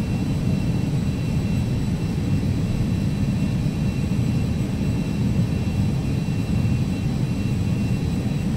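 Carenado Citation CJ2 (525A) jet engines in the Prepar3D simulator, climbing just after takeoff from KTEX in a snowstorm, give a steady, loud, even roar with a deep low rumble that holds without a break, and no one speaks.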